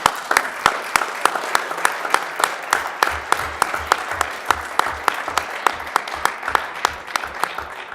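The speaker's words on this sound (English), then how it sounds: "let's get a round of applause for our government academy" Crowd applause for a government academy at a city council meeting, with a few loud, sharp claps repeating at a steady beat over a busier spread of clapping, plus low thumps partway through.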